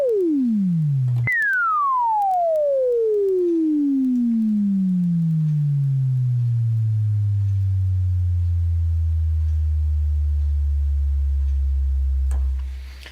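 A Micromoog synthesizer sounds a pure tone that drops steeply in pitch, then retriggers and glides down slowly over several seconds into a low, sustained drone. The filter and release settings change along the way, and the tone plays alone at steady loudness until a click at the end.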